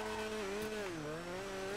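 Customized car engine in GTA 5 Online, likely the Lampadati Michelli GT or Rune Cheburek, droning steadily with slight pitch dips and rises, loud and close, with no talk over it.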